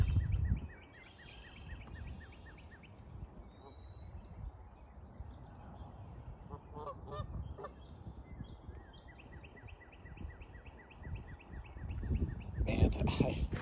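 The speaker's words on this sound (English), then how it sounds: "The symphony of the birds has begun." Faint birdsong outdoors at dawn: repeated chirps and short trills from distant birds over a soft ambient hush.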